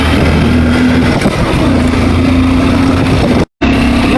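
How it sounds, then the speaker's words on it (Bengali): A motorcycle engine drones loud and close with a steady hum while riding on the winding road to Parasnath hill in Jharkhand, broken by one brief dropout near the end. "আমরা বাইকে যাচ্ছি"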